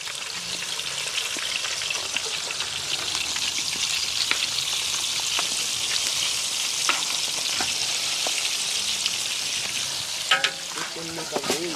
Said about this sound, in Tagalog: So ayan yung ating fried chicken. Ginaya natin si Jollibee.